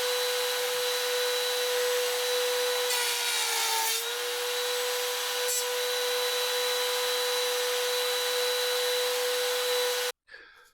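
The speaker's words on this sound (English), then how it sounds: "I'm using my new Rockler box joint jig on my homemade router table to notch 1/2 inch by 1/2" Router on a homemade router table notching 1/2 inch box joint fingers in wood with a Rockler box joint jig, a loud steady high whine held throughout with a brief cutting pass, then cutting off abruptly near the end.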